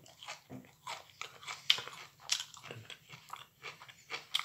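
Microwaved broccoli being bitten and chewed up close, a run of crisp crunches and wet chewing sounds repeating in an uneven rhythm for several seconds with no talking.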